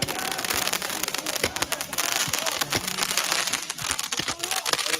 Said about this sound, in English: protesters wearing masks and shooting fireworks in the streets.